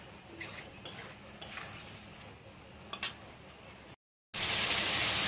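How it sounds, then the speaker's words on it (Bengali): Pointed gourd (potol) being stir-fried with a little sugar in a pan, a spatula scraping and stirring in repeated close strokes over a soft sizzle, ending in a brief silence and a louder burst of sizzling. "কষে নেবো পটলটাকে।"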